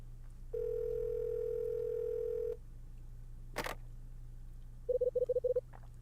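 A telephone dial tone in the game Last Window drones for about two seconds, then a short click is followed by a rapid run of six dialing tone beeps, clear and close in a quiet background.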